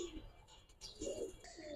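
A pair of old-breed Safchila pigeons coo in soft, low bursts, with a louder coo midway and another near the end, over a faint background hum.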